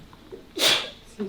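A single sharp sneeze bursts out loudly in a township supervisors' meeting, preceded by a faint breath and followed by a soft voice.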